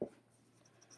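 A pen moves across a planner page in a short, faint scratch right at the start, followed by near silence.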